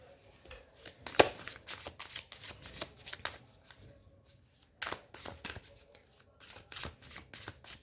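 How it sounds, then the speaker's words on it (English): Tarot cards are shuffled close up in rapid bursts of crisp riffling and slapping, stopping briefly before shuffling resumes, with no voice heard. "And we'll pull out some more cards."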